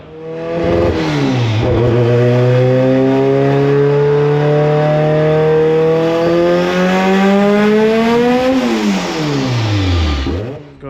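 A tuned car engine on a FuelTech-managed all-wheel-drive build revs hard and loud through a long rising power run, with a sustained climbing engine note, then drops off and rises briefly again near the end.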